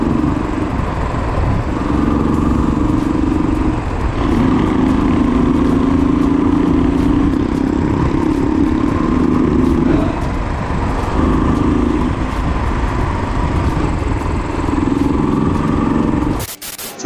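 Motorcycle engines rumble steadily for a long stretch, close and loud, with slight rises and dips in pitch, cutting off abruptly at the end.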